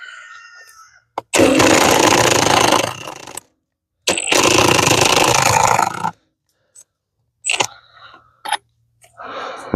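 A power drill drives into a newly built gate on a hog lot, two loud sustained bursts of whining and grinding with abrupt stops, followed by short clicks and brief spurts.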